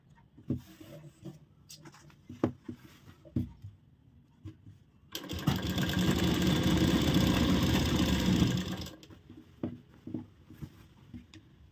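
A sewing machine stitches the side seam of a zippered bag with a pocket, running in one steady mechanical burst of about four seconds, framed by scattered knocks and handling of the fabric, with no talk.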